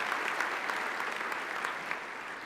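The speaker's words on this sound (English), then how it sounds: "let's give our council and our city staff and our community volunteers a round of applause for the volunteer work that they do" A State of the City gathering claps for council members, city staff and community volunteers, a steady, moderately distant round of applause from a sizeable crowd with no talking.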